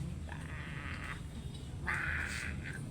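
Goat bleats twice outdoors, a nasal wavering call followed by a louder second cry, close by over low background noise.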